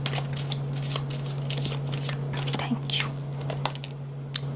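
Tarot cards are shuffled and drawn by hand, making rapid, close rustling flicks and soft card snaps over a steady background hum, with no talk.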